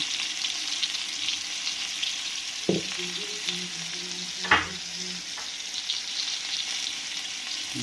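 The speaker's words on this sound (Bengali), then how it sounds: "তেলটা গরম হয়ে গেছে, এবার আমি একটু কালো জিরে, শুকনো লঙ্কা, তেজপাতা দিয়ে দিলাম।" Nigella seeds, dried red chili and a bay leaf sizzle in hot oil with a steady crackling hiss, broken by a few sharp spatters and clatters of a utensil against the pan.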